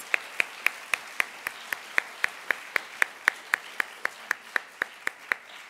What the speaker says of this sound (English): please let's give another wonderful round of applause for these two groups that just read for us